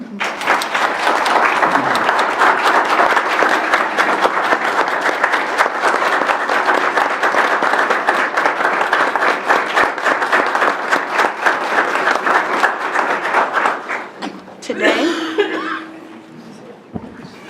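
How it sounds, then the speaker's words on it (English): Sustained audience applause fills a board of education meeting, dense and loud for about fourteen seconds, with scattered chuckles and murmurs, before tapering off as a voice begins and a brief tone sounds near the end. "Mr. Thomas, would you please stand to receive a round of applause?"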